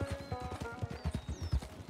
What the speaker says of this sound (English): Ride a horse 100 kilometers.